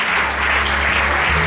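Audience applause at a breast cancer symposium, a short dense wash of clapping heard loud and close over a low steady hum.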